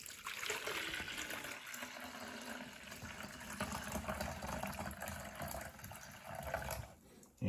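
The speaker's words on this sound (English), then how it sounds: "we're going to pour it into here until we get to 3 cups" Sweet tea for kombucha being poured from a batch into a container, a continuous liquid stream filling the vessel for several seconds, fairly quiet and close, ending abruptly.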